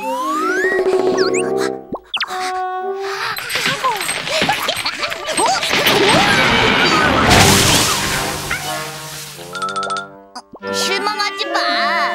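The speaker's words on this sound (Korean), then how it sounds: "저런, 뽀로로의 비행기가 떨어졌어요." Cartoon airplane falling and crashing down amid bouncy cartoon sound effects, building to a noisy, tumbling crash in the middle, while animated characters' voices chatter around it.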